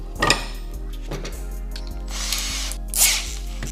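A cheap drill-driven nibbler chews through sheet metal such as aluminum or steel, giving a fast, steady mechanical whir with rattling bursts and a sharper spike near the end, close and loud with no talk.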